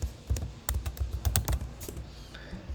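A name is typed on a computer keyboard, quick clustered key taps close by and fairly quiet, with irregular rhythm and a few heavier strokes.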